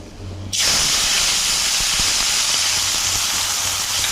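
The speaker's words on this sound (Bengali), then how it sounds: "এরপরে পেঁয়াজগুলো দিয়ে দিচ্ছি।" Onions dropped into hot oil with cardamom, cinnamon and bay leaf for an egg curry burst into a loud, steady sizzle after a brief quiet start, hissing continuously without any talk.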